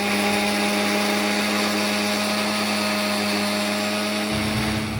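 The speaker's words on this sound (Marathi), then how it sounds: "एकीकडे जिरं धणे आणि मिरची वाटून घ्यायची" A mixer grinder whirs loudly and steadily with a high motor whine while grinding cumin, coriander and chili, its pitch dropping slightly near the end, with no voices.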